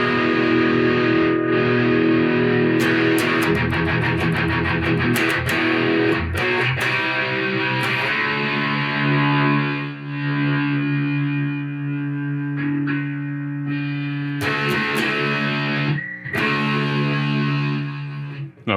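An electric guitar played through a Marshall JCM2000 amp on its ultra gain channel gives heavily distorted chords and riffs, loud and sustained, with pauses and sharp attacks between phrases, and plays alone without talk.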